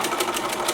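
A sewing machine running a quick line of understitching through seam allowance and lining, a fast, steady mechanical chatter with regular pulsing, close and loud with no speech.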